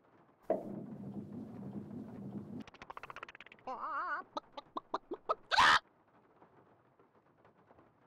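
Chickens in the Nancy Drew: Legend of the Crystal Skull video game: a low drone, then a quick run of clucks ending in a loud squawk, followed by near-silence.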